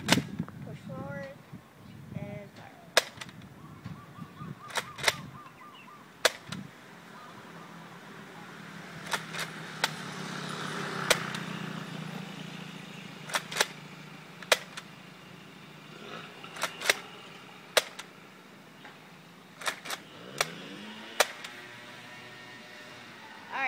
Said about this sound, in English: the range test of the Nerf Vortex Lumitron